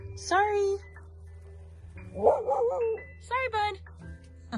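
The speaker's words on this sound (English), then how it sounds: "that's my neighbor's dog" A neighbor's dog on a rural property among horses and almond fields gives several short bursts of high, whiny yips and barks at middle distance, separated by pauses, while someone speaks briefly.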